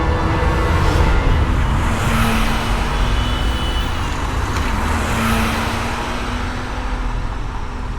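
A car drives along with a steady engine hum and road rumble, loud and continuous, a faint tonal whine running through it, no talking.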